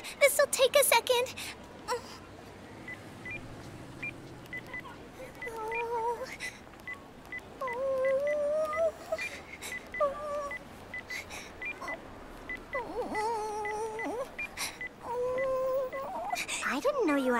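Cell phone keypad dialing tones in an animated series, short electronic beeps in irregular bursts, partly under and between a voice and background music.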